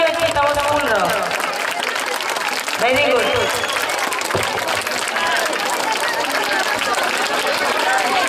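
An audience claps at a school golden jubilee celebration, with sustained applause and crowd noise running throughout while a voice talks over it.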